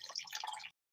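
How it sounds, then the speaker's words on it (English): Chardonnay poured into a wine glass makes a brief, soft trickling splash that runs steadily for under a second, then stops abruptly into silence. "love to hear wine pour. You hear that?"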